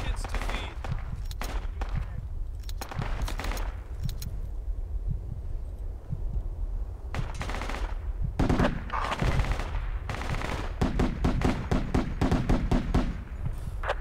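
Gunfire in the video game Project Reality: close bursts of automatic rifle fire in rapid rattling volleys, separated by short quieter gaps, with voices on radio chatter between shots.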